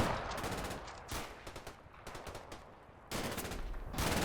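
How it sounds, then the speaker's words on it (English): Sten gun fire from a tank commander in the Combat Mission war game: several sharp bursts of rapid automatic shots in close succession, broken by brief pauses, loud and near, with no talking. "The tank commander makes the most of his Sten gun."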